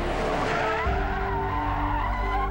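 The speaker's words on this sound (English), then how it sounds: "Doing the same maneuver in an armor-plated tank" Armored presidential limousine swinging through a J-turn, a loud, close tire skid and squeal over a heavy engine roar that shifts tone midway through the maneuver, with no talking.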